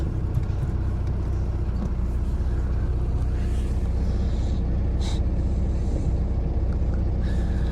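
A Volvo V diesel engine idles steadily after a cold start with a low, even rumble, close by and continuous, with faint brief noises on top.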